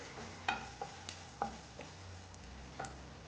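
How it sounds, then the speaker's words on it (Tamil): Grated coconut roasting in ghee in a pan while making Aravana payasam: a soft, steady frying hiss punctuated by several sharp ticks and scrapes of a spatula against the pan, quiet and close. "இப்போ இந்த நெய் நல்லா உருகின பிறகு நெய் உருகிடுச்சு தேங்காய் சேர்த்து நல்லா வறுத்துக்கிறேன்"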